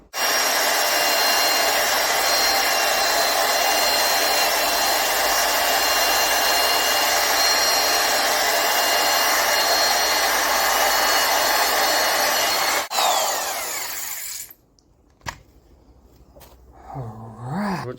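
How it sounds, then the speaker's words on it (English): An electric drill with a wire brush grinds rust off metal in a loud, steady, close whine for about thirteen seconds, then cuts out, followed by a few faint scrapes and handling knocks. "got my electric drill here with the wire brush"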